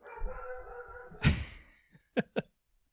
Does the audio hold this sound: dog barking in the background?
yes